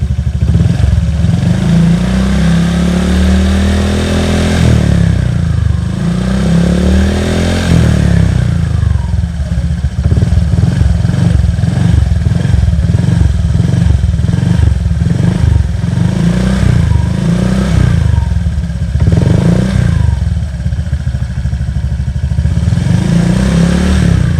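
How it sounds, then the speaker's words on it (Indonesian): A Vario motorcycle's copy CMS exhaust with MDM Gen3 filter revs repeatedly with light throttle, rising and falling in loud throaty bursts over a rumbling idle, up close and continuous. "Kurang lebih kayak gitu guys untuk si suara knalpotnya."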